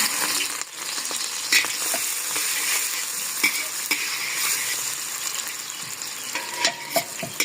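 Onions frying in a little oil in a kadhai, with a steady broadband sizzle running throughout and occasional sharp clicks and scrapes of a spoon stirring against the pan.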